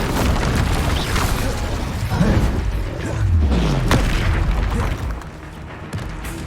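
Casting the Incendio fire spell in Hogwarts Legacy gives a loud roaring, booming whoosh of flame amid dense combat noise, with a low rumble trailing off.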